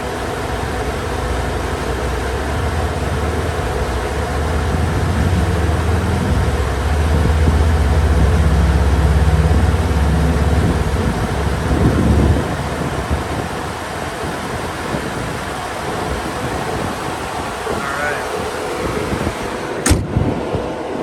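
A 2011 Volvo XC90 with the 3.2-litre chain-driven engine idles with a steady low rumble, close and fairly loud, and the rumble eases off partway through.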